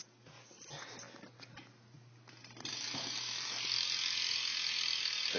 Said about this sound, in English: I guess I'll do a hub sound for you real quick.